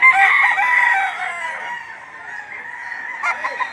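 Roosters crow loudly at a Saturday chicken market in Lipa, Batangas, one long close crow followed by fainter crowing and clucks from other birds.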